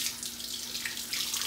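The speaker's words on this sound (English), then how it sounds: "I'm just gonna bring it over to my sink to rinse off some of the soap bubbles" Water runs steadily from a sink tap while a bar of felted soap is rinsed under it. The stream gives a close, continuous hiss with slight splashing changes.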